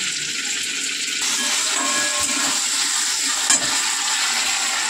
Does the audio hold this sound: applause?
no